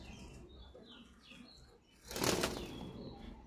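A pigeon beats its wings hard while held in someone's hands, a close, dense burst of flapping around the middle that runs on through the end, with faint bird chirps earlier and no talk.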